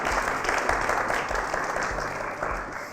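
An audience at a live televised contest applauds steadily, a dense wash of clapping hands that continues evenly throughout at moderate volume.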